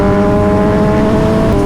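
A Ducati V4 superbike engine screams at high speed, a loud, steady, sustained roar with strong harmonic tones and a slight pitch shift near the end, heard continuously without talk.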